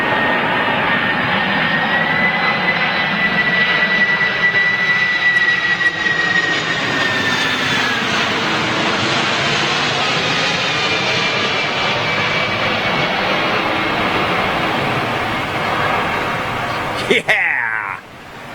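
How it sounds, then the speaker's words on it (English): A converted passenger-to-freight jet airliner at LAX roars loudly and steadily overhead, with a rising engine whine and broad rumble that builds and then fades near the end as it passes. "I think that is a converted passenger to freight aircraft."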